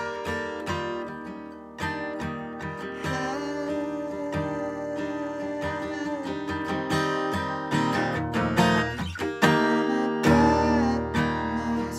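An electric guitar plays the melody of a song, sounding alone and close as ringing strummed chords and picked notes in a loose, steady rhythm, with no voice.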